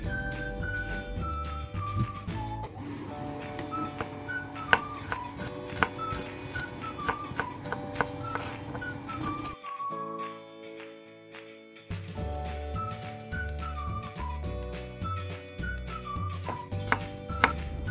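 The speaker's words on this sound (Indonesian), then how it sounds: "Dan ini cabai rawit merahnya mau saya iris-iris halus." Red bird's eye chillies being finely sliced with a knife, quick repeated chopping taps on a board heard over steady background music with whistled tones, no talking.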